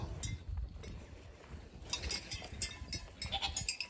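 Goats bleat repeatedly at feeding time on a farm, several overlapping calls that are fairly faint and distant, with rustling and shuffling noise between them.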